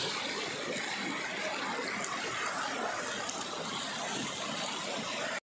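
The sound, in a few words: strong river current flowing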